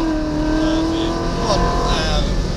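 An Ariel Atom race car accelerates on the Top Gear test track, its engine note climbing through rising revs and shifting pitch, loud and close, with a voice talking over it.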